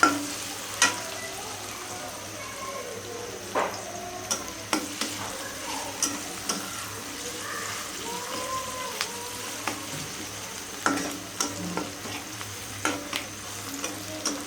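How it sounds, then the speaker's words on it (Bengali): Onions fry in a pan for a pabda fish curry, a steady close sizzle broken by frequent clinks and scrapes of a spoon stirring at an uneven pace, with faint voices in the background. "পাবদা মাছের জন্য পেঁয়াজটা ভেজে নিচ্ছি।"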